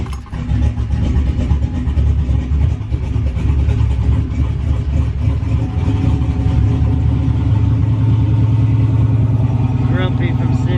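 A turbocharged LS-swapped Chevrolet Envoy sleeper runs at a steady idle while it warms up, a loud, continuous low engine rumble with a slightly rough, grumbly edge from sitting, filling the whole stretch without a break.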